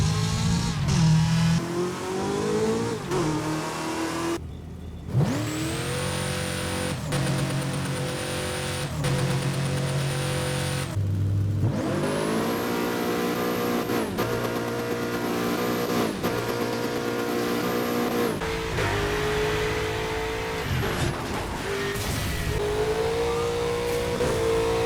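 Car engine in the racing game Burnout Paradise revving hard and continuously, pitch sweeping up through gear changes with tire squeals and skids, loud and close throughout, with two brief dropouts, no talking.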